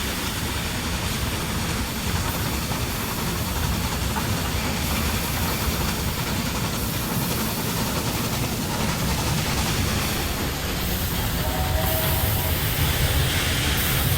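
Trains rolling along the rails in the Railway Empire 2 video game, a steady dense rumble with hiss and mechanical clatter that runs continuously and fairly loud, no voices over it.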